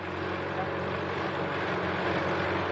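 A tractor hoes between rows of a vineyard, its engine giving a steady, continuous drone at moderate distance, unbroken throughout with no talk.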